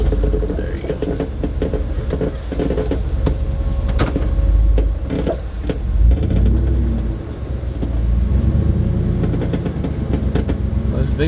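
VWerks Recon JK-8 Jeep on big bead-lock tires crawling a rocky trail at MPG Trail Day, a steady loud engine drone and tire grinding with scattered clunks, voices talking over it.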